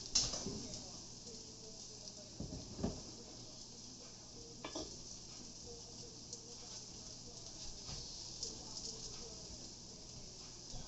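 Cumin and cactus nopales sizzling softly in a pan, a faint steady frying hiss with occasional light clinks and stirring scrapes, heard close and alone.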